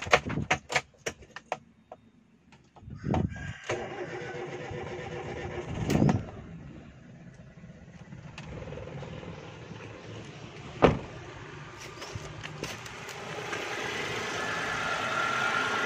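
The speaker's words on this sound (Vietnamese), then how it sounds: "bây giờ mình nổ máy mình coi cái cái máy nổ nó sao ha" A 2005 Daewoo Matiz SE 0.8 with manual gearbox, parked, is cranked and started with a few clicks and thumps, then its small engine settles into a quiet, steady idle heard close up.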